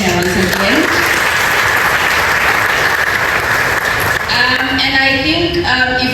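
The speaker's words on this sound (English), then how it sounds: "A big round of applause for her once again." A talk-show audience at a university employer networking event gives a loud, sustained round of applause, with some speech-like sounds in the mix toward the end.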